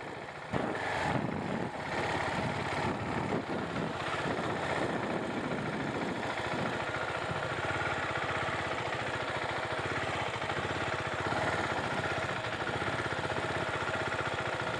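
A 2017 KTM Duke 690 single-cylinder motorcycle runs at low speed on a demo ride, its engine a steady, continuous drone mixed with broadband wind rush and no speech.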